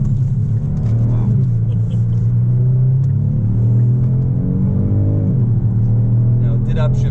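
A Kia Stinger GT pulls hard onto a local highway, its engine rumbling loud from inside the cabin, with rising revs that drop back as it upshifts, while people talk over it.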